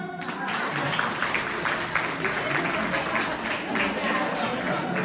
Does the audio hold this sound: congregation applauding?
yes